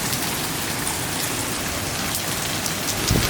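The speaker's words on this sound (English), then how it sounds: "we spent 2 full days in the hotel room avoiding the rain." Heavy rain falls on the Thai island of Koh Samui, a steady dense wash of drops pattering on surfaces, loud and constant throughout with no voices.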